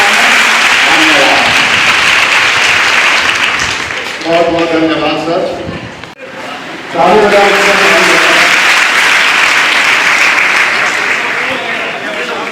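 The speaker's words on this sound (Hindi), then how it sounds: "फिर एक जोरदार ताली बजाइए आपके साथ।" Loud applause from a crowd of schoolgirls at an intermediate college event, swelling in two long bursts separated by a short stretch where someone speaks over the fading claps.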